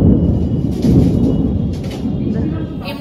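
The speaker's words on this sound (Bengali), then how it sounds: "শুকনো মেঘ হচ্ছে আর বাজ পড়ছে, বৃষ্টি কিন্তু নেই।" Thunder rolling from dry storm clouds with no rain falling, a loud, deep, continuous rumble that swells and eases over a few seconds, with faint voices in the background.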